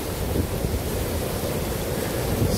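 Steady broadband rush of moving water, constant and fairly loud throughout, with no voices.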